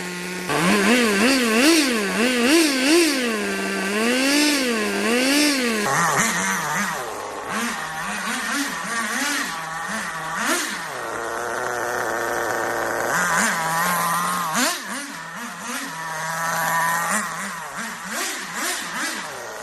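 A nitro RC car engine runs at fast idle, a loud buzzing whine that wavers up and down in pitch with small blips, then settles into a rougher, steadier drone; no voices.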